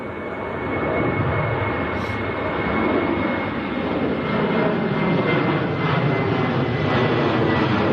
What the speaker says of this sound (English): Maltese registered Ryanair, just getting airborne.